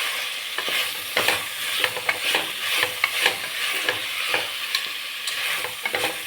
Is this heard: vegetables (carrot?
yes